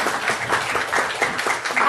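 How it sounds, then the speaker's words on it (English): An audience at a lupus conference panel breaks into sustained applause, a dense, steady wash of many hands clapping in a hall. "I haven't even said anything yet, and they're clapping."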